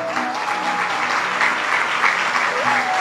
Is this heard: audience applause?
yes